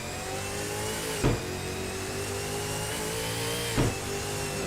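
V8 Supercar engine with a Corsa sound mod in a racing video game, holding a steady, loud, high-pitched drone at high revs, broken by two brief gear-change blips about two and a half seconds apart.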